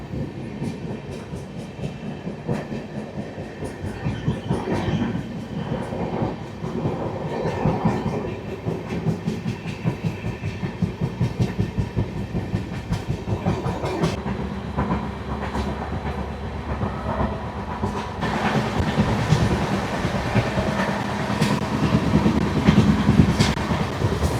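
Shatabdi Express 12025 accelerating on the Pune–Hyderabad route, a steady rhythmic clickety-clack of wheels over rail joints with a continuous rumble that grows louder and denser toward the end, heard close from inside the train.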